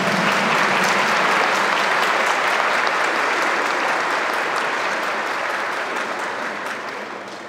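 Congregation at a Catholic Mass in the parish of Nossa Senhora dos Remédios applauding after a baptism, loud sustained clapping filling the church and slowly tapering toward the end.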